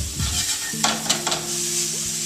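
Ginger and celery hit a hot pan and sizzle brightly, with a few sharp stirring scrapes and steady frying hiss up close; a faint hum sits beneath, no voices.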